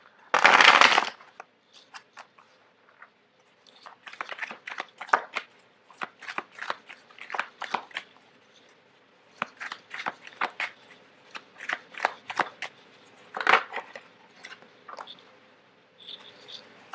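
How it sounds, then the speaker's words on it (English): Tarot cards shuffled by hand on a cloth-covered table, close and fairly quiet, in bursts of soft riffling and sliding taps with short pauses between, no talking. "it's really difficult to shuffle on top of this tablecloth"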